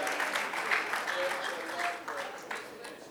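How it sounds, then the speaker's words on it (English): An audience at a PMI Africa conference session claps for a few seconds, a dense patter of hands that starts loud and tapers slightly toward the end. "Clap for him."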